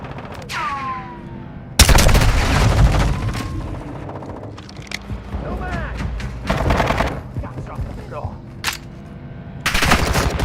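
Bursts of rapid automatic gunfire in a shooter video game, loud and close, coming in long volleys with gaps between them, while players shout and talk over the shooting.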